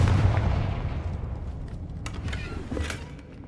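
A Confringo fire spell goes off in the Hogwarts Legacy video game, a loud booming blast with a rumbling tail and a couple of sharper cracks near the end.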